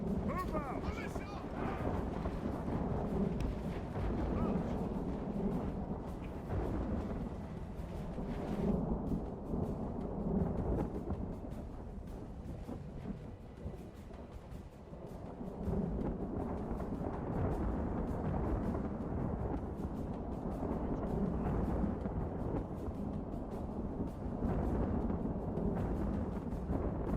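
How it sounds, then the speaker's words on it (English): A storm rumbles through a battle in the strategy game Third Age Total War, with deep thunder and a steady rushing roar of rain and wind running throughout while someone talks over it at intervals. "Storm sounds crazy right now"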